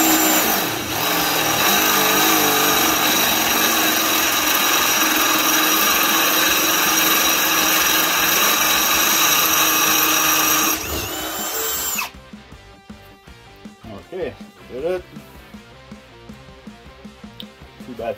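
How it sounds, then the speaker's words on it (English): A Ryobi One+ HP PBLDD01 cordless drill runs hard under a load test, a loud steady whine held for about eleven seconds before it stops abruptly, followed by quieter clicks and handling noises. "Now this drill is actually 750 inch pound of torque"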